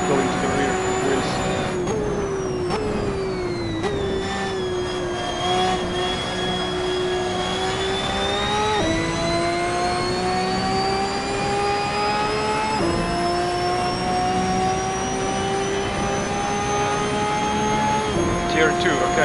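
A Ferrari 599XX EVO engine in the racing game Assetto Corsa howls loudly and continuously, its pitch climbing through each gear and dropping sharply at every shift, with several upshifts in a row and a voice talking over it.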